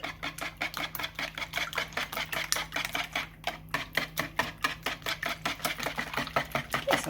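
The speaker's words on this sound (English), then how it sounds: "Now we'll just whisk all of that together until evenly combined" Rapid, steady clinking of a whisk against a bowl as a sweetener mixture is beaten together, a brisk even rhythm of close, bright strokes running throughout with no talking.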